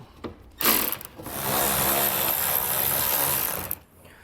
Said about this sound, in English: you can see that there's going to be two 10mm nuts here, so we'll go ahead and get those taken out